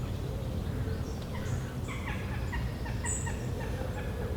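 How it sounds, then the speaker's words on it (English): Jackdaws and wood pigeons call in woodland just after sunrise, a busy chorus of short repeated calls over a low steady background rumble. "Jackdaws and wood pigeons."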